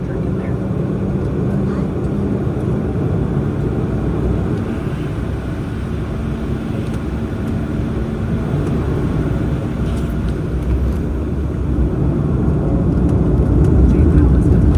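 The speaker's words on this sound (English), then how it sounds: "Clear for takeoff, runway 9" A jetBlue airliner takes off from runway 9 at Presque Isle, Maine on an inaugural flight, a steady broad engine roar that swells slightly toward the end while people chat nearby.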